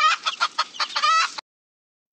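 A hen clucks in a quick series of short, choppy notes, close and distinct, then falls silent.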